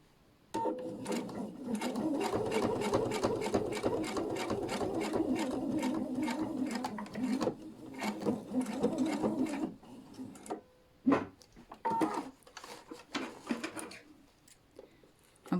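A sewing machine runs a steady rapid stitch for about ten seconds while bias binding is sewn onto a patchwork table runner, followed by a few short bursts and clicks, quiet and close.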